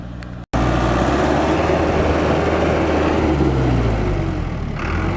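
Tümosan 8175 tractor engine pulling in two-wheel drive on rain-soaked, slippery ground, a loud continuous close-up drone that holds steady for several seconds after a brief gap at the start.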